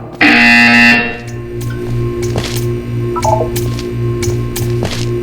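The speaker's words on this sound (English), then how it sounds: "You will hear a buzzer." In the Portal 2 video game, a flat electronic buzzer drones in a low pulsing pattern beside a room hum, opening with a brief bright alarm-like tone and followed by scattered clicks and clanks.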